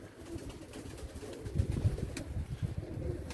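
Young female Arap takkali pigeon cooing softly, low throaty burbling coos repeated close by over faint outdoor background noise, no talk.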